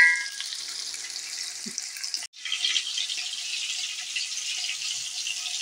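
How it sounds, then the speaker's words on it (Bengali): Chopped onions, about 250 grams, frying in oil for chicken biryani, a steady bright hiss of sizzling close up, briefly dipping once as they are stirred before the loud sizzle resumes. "পেঁয়াজ কুচিটাকে আমি ঠিক করে নেড়ে নেব।"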